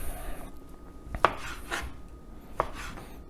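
A knife slices venison thinly on a board, giving two distinct, close taps about a second apart over a quiet room, with no voices.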